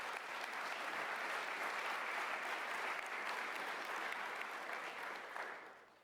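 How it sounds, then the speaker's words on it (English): Staff at a community college all-employee meeting give sustained applause, a dense, even wash of clapping heard from some distance that tapers off near the end. "give yourselves a round of applause"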